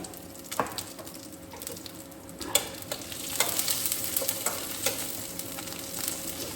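Cloves, cinnamon and cumin temper in hot oil for a vegetarian cauliflower curry, giving a steady close sizzle with scattered crackles and pops that build through the second half, no voices.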